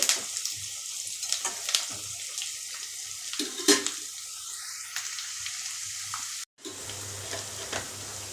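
Ingredients for an uggani snack sautéing in a pan, a soft sizzle with intermittent stirring and scraping taps, close and moderately quiet, with one brief dropout near the end.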